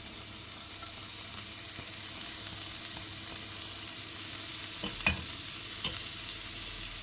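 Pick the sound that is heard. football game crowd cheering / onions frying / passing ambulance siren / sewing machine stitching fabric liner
onions frying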